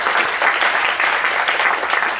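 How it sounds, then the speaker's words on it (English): An audience aboard a cruise ship tour claps together in a dense, steady burst of applause, close and loud throughout. "I want to give him another round of applause."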